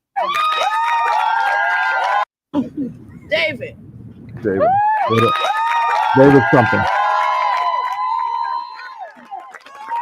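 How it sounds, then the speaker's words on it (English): A wild crowd cheers and shouts through a home video clip, the roar steady and loud almost throughout with a brief dropout near the start, while a voice talks over it. "And the crowd goes wild."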